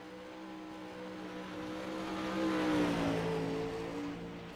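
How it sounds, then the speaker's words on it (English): A Pro Late Model race car accelerates at Volusia Speedway, its engine note climbing and swelling louder toward the middle before easing off, heard fairly faintly at a distance. "Green flag for Kyle Fisher in caliber 7"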